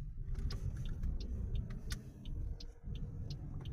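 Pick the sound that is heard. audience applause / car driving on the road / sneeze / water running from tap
car driving on the road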